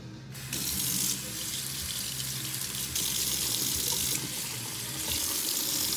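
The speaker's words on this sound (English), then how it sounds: "and then you gotta rinse the sponge." Water from a kitchen faucet runs steadily as a sponge is rinsed under it, a close, continuous splashing hiss that stays fairly even throughout with small shifts in flow.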